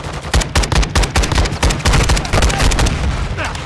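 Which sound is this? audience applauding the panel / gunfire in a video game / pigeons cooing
gunfire in a video game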